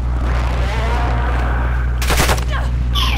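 Gunfire in Call of Duty Modern Warfare II, a dense burst of shots cutting through a steady low rumble of battle ambience, with a shorter crack near the end.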